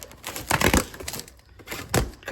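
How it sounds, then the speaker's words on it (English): A knife slices through packing tape on a shipping box, giving a few loud rasping, tearing bursts close up, with a quieter stretch between them. "Cut tape."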